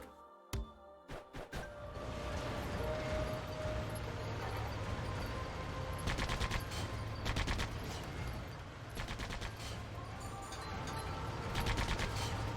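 A 76mm tank gun fires in the SandLand video game: sharp, fairly distant booming shots come in scattered clusters over a steady low rumble of engine and background noise.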